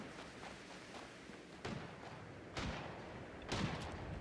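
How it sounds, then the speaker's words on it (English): Gunshots in the video game Fallout come as three faint, distant reports spaced about a second apart over a low, steady background. "I'm hearing gunshots"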